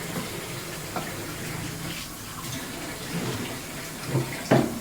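Tap water runs steadily into a basin while meat for a head curry is rinsed, a soft continuous gush broken by a few small knocks and splashes near the end.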